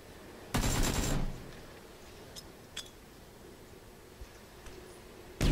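Gunfire in the battle royale game PUBG: one loud, broad burst near the start, followed by a few faint, sharp distant pops and clicks, then another sudden blast at the very end.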